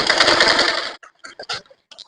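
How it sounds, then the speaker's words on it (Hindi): A sewing machine stitches a pocket onto a salwar in one loud, steady burst of about a second, then stops, leaving a few short clicks and handling noises. "पॉकेट का सिलाई मजबूत हो इसीलिए इसको डबल करके सिलाई करेंगे।"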